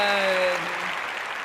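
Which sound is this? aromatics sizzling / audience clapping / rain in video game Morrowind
audience clapping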